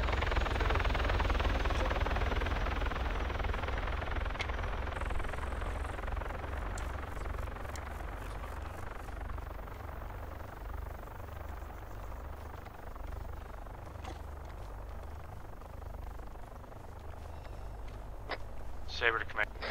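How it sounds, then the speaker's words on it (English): Helicopters thump and whir overhead, loud at first and slowly fading, with scattered clicks and faint radio-like chatter beneath. "those are our helicopters now"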